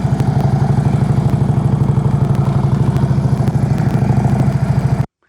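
A motorcycle engine thrums at low speed ahead of a slow U-turn, a loud, close, steady rapid pulsing throb that cuts off abruptly at the end.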